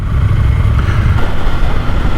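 A new KTM 990 Duke motorcycle is ridden on cold Spanish roads, its engine giving a steady, loud low rumble throughout with wind noise over it, close to the microphone.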